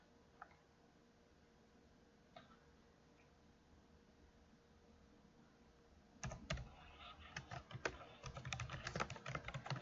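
Typing on a computer keyboard, a quick patter of key clicks that starts partway through after a few isolated taps, close and fairly quiet.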